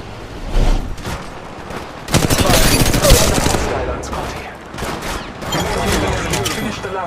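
Gunfire in the mobile game Apex Legends Mobile: bursts of rapid automatic shots, near and loud, in several waves separated by brief lulls, with occasional in-game voice callouts.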